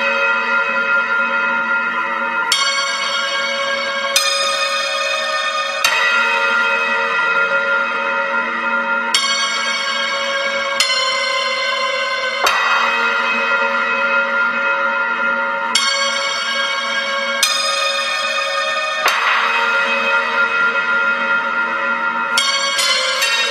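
Two Yule bells ring out clearly and loudly, struck over and over at uneven intervals of roughly one to three seconds, each bright, metallic strike leaving a long shimmering hum that overlaps the next.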